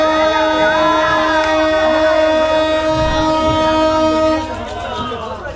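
Ekota Express train pulling out of Panchbibi station, a loud sustained horn blast holding steady for several seconds over rumbling wheels before cutting off, leaving quieter running noise.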